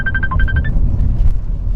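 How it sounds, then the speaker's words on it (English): A phone rings indoors with a bright electronic ringtone: a fast run of repeated beeps that rise at the end. It lasts under a second over steady low room hum, and no one speaks. "I hear the phone."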